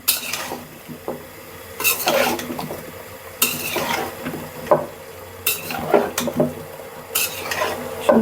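A curry of beans, eggplant and cauliflower is sautéed in a pan, with repeated bursts of a utensil scraping and clattering against the pan over a low sizzle, coming in uneven strokes with short pauses.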